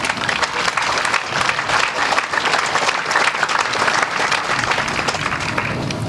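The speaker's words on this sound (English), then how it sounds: "So I want all of you guys to give yourselves a round of applause." A crowd at a Relay for Life 2015 event gives itself a round of applause, loud, sustained clapping from many people close by with no pause.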